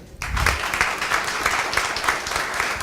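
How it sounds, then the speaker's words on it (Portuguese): A round of applause from the audience at a city council public session, starting abruptly and holding steady with crowded clapping. "Eu pediria a quem está nos ouvindo que lhe dedicasse uma salva de palmas"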